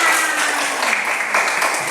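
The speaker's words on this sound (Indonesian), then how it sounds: "Tepuk tangan." Elementary schoolchildren clap together in a classroom, a short, lively burst of many small hands applauding at close range, loud and continuous throughout.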